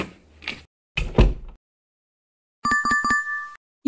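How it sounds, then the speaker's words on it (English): A door being closed, with a few muffled thumps and rattles early on, then a short run of bright ringing clinks and a final knock, close and separated by silence. "Sound is closing door."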